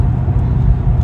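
A 29-year-old BMW car cruises on the road, its engine giving a loud, steady low rumble with road noise and no talk.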